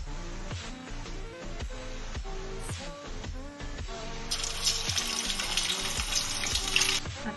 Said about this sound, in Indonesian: kita goreng ya di minyak yang panas